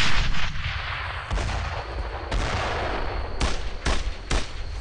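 Heavy gunfire rings out in a World War II shooter set in Normandy, with a loud continuous rattle broken by sharp, booming shots and echoing bursts close by, with no voices.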